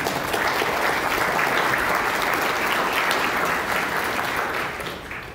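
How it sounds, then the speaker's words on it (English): A seminar audience applauds, dense and loud clapping held steadily for several seconds before tapering off at the end. "I'd give them a hand of applause,"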